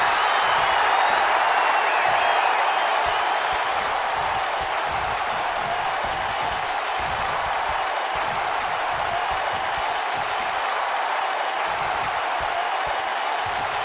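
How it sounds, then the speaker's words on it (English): A large wrestling arena crowd in WWE 2K, a steady, loud roar of cheering and applause that stays constant across the whole stretch, with a commentator's voice faintly underneath. "Columbus has become known for being an extremely electric crowd"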